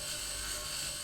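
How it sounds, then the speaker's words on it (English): A steady, continuous whirring grind from a cutting tool removing a part in the Mars survival game Occupy Mars, with a sustained high mechanical whine and no breaks. "I reckon we should be able to grind this off and get some electronic parts from that."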